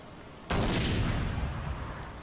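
Ship cannons fire in a Shogun 2 Total War Fall of the Samurai naval battle: one sudden loud boom followed by a long rumbling roar that slowly fades.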